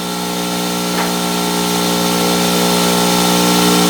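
A power buffing wheel spins against a stainless steel workpiece, making a loud, steady motorized whine with a constant tonal hum that grows slightly louder toward the end.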